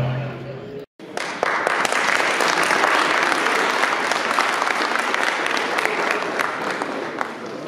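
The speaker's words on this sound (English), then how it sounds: "Round of applause." A room full of guests at a send-off party breaks into applause after a short pause, a loud, dense and continuous clapping that carries on steadily for several seconds.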